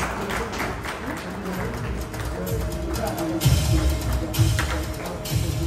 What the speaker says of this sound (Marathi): तर या दोघा रत्नांसाठी एकदा जोरदार टाळ्या वाजवा